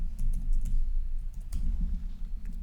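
Fingers typing an email address on a computer keyboard, a quick irregular run of soft clicking keystrokes close by, with no talking.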